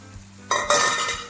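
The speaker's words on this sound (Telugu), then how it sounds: "మొత్తం బ్రౌన్ కలర్ వచ్చేదాకా వేయించుకోవాలి" Whole spices such as bay leaves, cardamom, cloves and fennel seeds fry in a hot pan, a bright sizzle suddenly bursting up and holding loud and close, with light stirring clinks.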